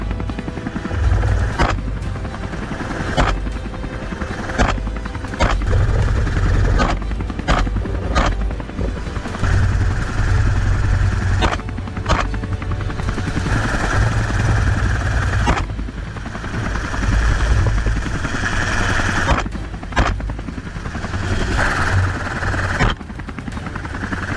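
A helicopter engine roars loudly and steadily for the whole stretch as the aircraft is brought low over a cliff area during a wild boar hunt, with sharp bursts cutting through the drone.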